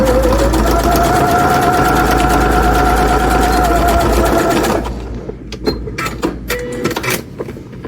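A sewing machine runs a straight stitch on woven fabric in a loud, continuous mechanical whir with a steady hum, then stops partway through, leaving a few close clicks and handling noises.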